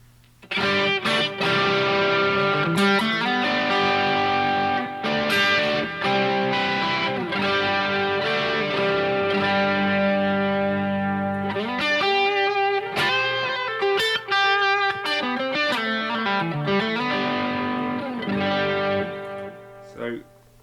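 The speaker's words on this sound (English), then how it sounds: "I'm going to chuck the delay and reverb on" Distorted electric guitar plays chords and riffs, its notes trailing off in delay echoes and a wash of reverb.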